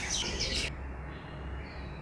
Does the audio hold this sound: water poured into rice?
no